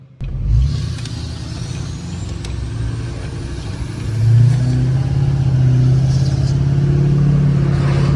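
An L5P Duramax diesel pickup accelerates on the road, a loud close engine drone that swells and climbs through the gears, with a faint whine rising above the rumble.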